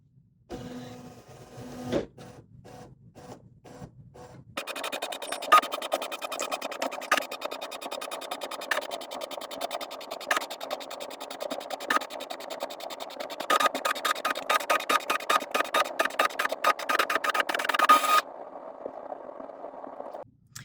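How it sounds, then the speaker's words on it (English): An embroidery machine scans its hoop with fabric in place: a few soft clicks, then a long steady mechanical whir with rapid ticking that stops abruptly, fairly quiet and close, no talk. "now all I'm going to do is scan our hoop so that we can project this fabric onto our machine"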